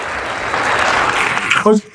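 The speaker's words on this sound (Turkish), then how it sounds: "Alın alkış alayım hocam" A classroom audience of young students applauding during a talk, a steady burst of clapping that builds and then cuts off abruptly as a voice speaks at the end.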